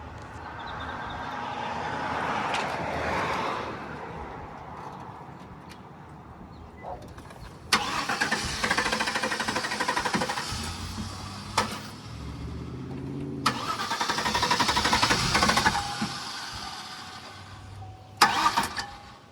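A 6.0 truck engine with about 150,000 miles cranks and turns over in repeated bursts, with rough starting attempts broken by pauses, close up and fairly loud, with no voices.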